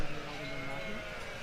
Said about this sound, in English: It is the sheep.